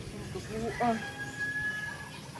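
A chicken gives a short burst of clucking close by, over a low background murmur.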